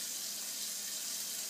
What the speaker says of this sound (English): water and just fill it.